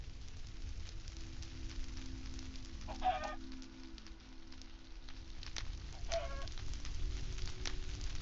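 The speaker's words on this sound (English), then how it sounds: "Chicken." Chickens in the video game Minecraft give two short bursts of clucking around the third and sixth seconds, fairly faint over a steady low background hum and crackle.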